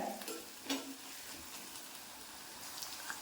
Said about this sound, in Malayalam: വഴറ്റി നന്നായിട്ടിത് നല്ലതുപോലെ മൂത്ത് വരണം നമ്മുടെ ഈ സവാള.